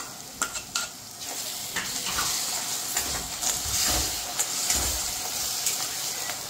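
Ground tomato paste sautéing in oil in a pan, a steady close sizzle and hiss with occasional spoon stirring scrapes, no talk.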